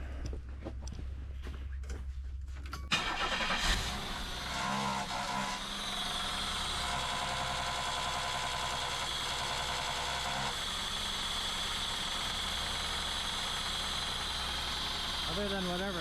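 A 1990 Chevrolet Cavalier Z24, just fitted with new fuel injectors, cranks briefly and catches about three seconds in, then settles into a steady, close, droning idle that carries on to the end.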